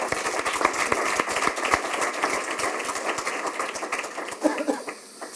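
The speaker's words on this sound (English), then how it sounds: "A quick round of applause for all of our guests" A small audience gives a quick round of applause for guests at an urban water talk, scattered individual claps rather than a dense roar, fairly steady for about five seconds before thinning near the end.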